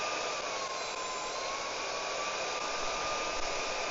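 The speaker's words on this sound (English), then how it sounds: "So there it is, vacuuming." A handheld vacuum cleaner, also sold as an air duster, runs at its high suction setting with a steady, loud, high-pitched whine and airy rush that holds unchanged throughout, with no talking.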